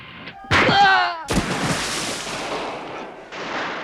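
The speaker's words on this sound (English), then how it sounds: "Blank-firing weapons introduce another element of risk" Blank-firing weapons go off on a film set for a behind-the-scenes James Bond production: a sharp loud bang followed by a second blast, then a long rumbling, noisy decay.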